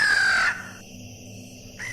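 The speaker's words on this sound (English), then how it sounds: "The blood-chilling croak of a crow made me jump." A crow gives a single harsh, rasping croak up close and loud, cut off sharply after half a second, leaving a quiet hum behind.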